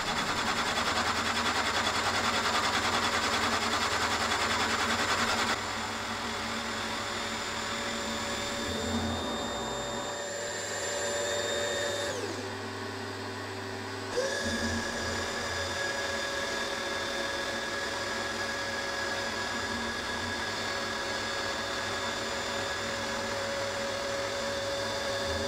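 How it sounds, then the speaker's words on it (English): A milling machine cutting a metal flywheel for a small model engine, a continuous loud mechanical whine with steady tonal hum, shifting in pitch and level as the cut changes, briefly easing off before resuming, no talking. "put it on the mill, and mill most of that off"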